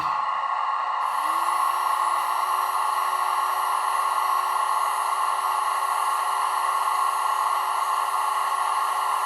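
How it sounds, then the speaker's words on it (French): On a model locomotive's sound function, the cooling fans switch on, giving a steady, slightly odd electronic whirring hum with bright layered tones; a higher tone joins after about a second and then holds constant. "F8, ventilateur activé"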